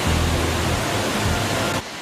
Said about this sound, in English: This pool is just energy that's stuck behind the waterfall